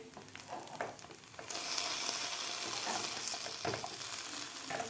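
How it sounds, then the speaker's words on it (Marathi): Potato slices frying in a pan for a mini potato pizza, a steady close sizzle with soft crackles that swells louder partway through, with no talking. "थोडासा गोल्डन कलर होईपर्यंत आपल्याला हे फ्राय करून घ्यायचे आहेत बटाट्याचे काप।"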